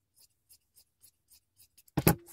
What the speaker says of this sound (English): And now I'm going to cut this into half